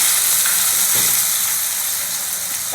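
Chopped tomatoes frying in a pan after sautéed onions for a horse gram kulambu, a loud, steady sizzle up close with a brief stir near the middle.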